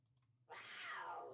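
A cougar sound effect plays from a radio-station prize wheel, a loud, raspy cat cry that starts abruptly and holds as one sustained, slightly falling wail of about a second over a quiet low hum.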